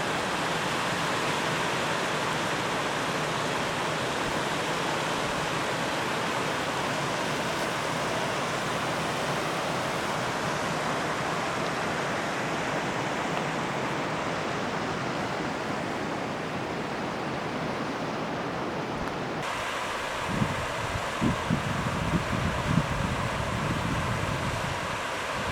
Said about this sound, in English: More little waterfalls coming down